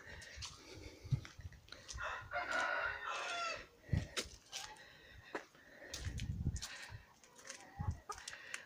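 Hens cluck in short bursts nearby while a rooster crows loudly partway through, with scattered farmyard bird calls around them.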